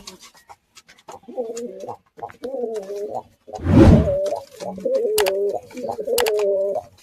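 A male and female pair of betting pigeons coo close by in repeated low, throaty phrases, broken midway by a short burst of flapping wings.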